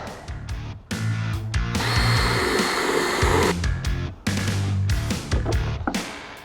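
A drill widens a bolt hole in an Epi N-Tune fender bracket on a Nissan R35 GTR, whirring in loud bursts that rise and stop several times, with brief pauses between short runs.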